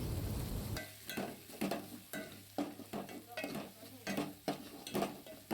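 A spoon stirs onions, green garlic and ginger-garlic paste frying in a pan, with repeated scraping strokes in a steady rhythm over a soft sizzle, close by and quiet.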